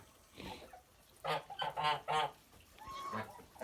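A gander sold off a farm honks in a loud burst of three or four close, harsh calls, preceded and followed by softer, nearer honking and rustling.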